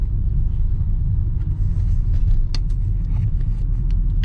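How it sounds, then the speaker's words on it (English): Cars idle in a stopped traffic jam on the way back from Virginia Beach, giving a steady low engine rumble heard from inside a vehicle, with a few faint clicks and knocks over it and no talk. "We are in the middle of a traffic jam."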